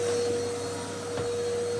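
A household vacuum cleaner runs steadily and close during home cleaning, a constant droning whir with an underlying electrical hum, and no one speaks.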